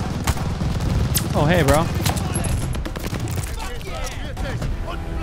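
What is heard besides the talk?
gunfire in the video game Call of Duty Vanguard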